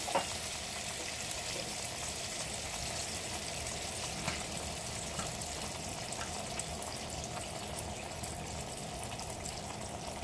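Water poured into a frying pan with olive oil sizzles and crackles steadily, a continuous close frying hiss with faint pops and no talking.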